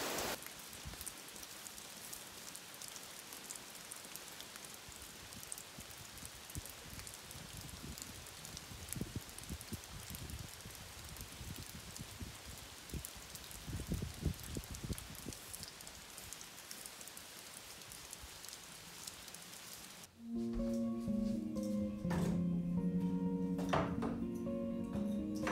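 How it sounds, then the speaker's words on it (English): Heavy rain pours steadily onto a tiny house deck, a dense close hiss with scattered drops, then drops away into quieter pattering and a few light knocks near the end. "It's raining so hard."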